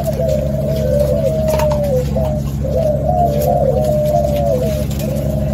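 Male spotted doves coo in a kept pair, a steady low rolling coo repeated in looping phrases, close and clear over a constant background hum, with no talking.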